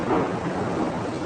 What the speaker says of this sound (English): we see the lightning first and then hear the thunder.